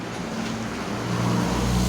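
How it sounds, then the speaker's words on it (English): Street traffic rumbles outside an apartment, a loud continuous broadband roar with a low engine drone that swells toward the end as a vehicle draws nearer. "As you can hear, as you can see in this video, the traffic has been more than before."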